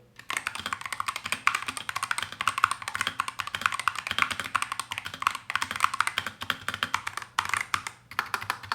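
Steady bursts of clicky mechanical keyboard typing on an original Razer Huntsman, close and moderately loud, with a short lull near the middle before the keystrokes resume.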